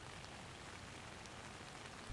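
Gentle rain falls in a steady, soft hiss of scattered drops, even and unbroken, with no voices.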